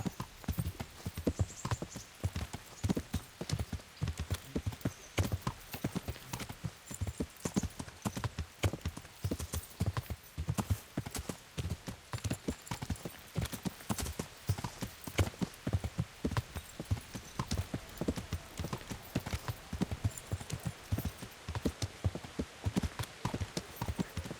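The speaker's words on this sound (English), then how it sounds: "That horse of yours nearly trampled me to death." Horse hooves in the video game Kingdom Come: Deliverance clop steadily and rapidly on hard ground for a long stretch, a continuous rhythmic patter at close range.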